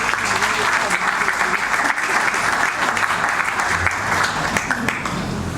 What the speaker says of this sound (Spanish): Recibamos con fuertes aplausos a la doctora María Candelaria Quispe Ponce.